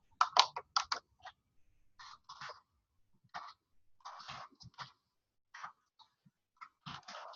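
Code typed on a computer keyboard in short irregular bursts of crisp clicks, with pauses between the groups of keystrokes. It is close and fairly quiet, with no voices.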